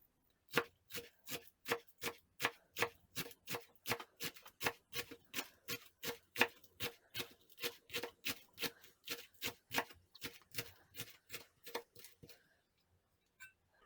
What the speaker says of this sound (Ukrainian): зараз міленько подрібню кріп та цибулю